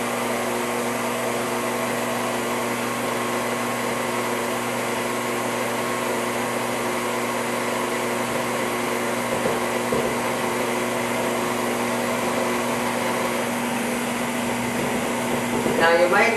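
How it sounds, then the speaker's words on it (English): A stand mixer kneads a single batch of stickly stollen fruit bread dough, its motor giving a steady, fairly loud whine and hum that continues unbroken for the whole stretch. "this is a single batch in a mixer, not a double."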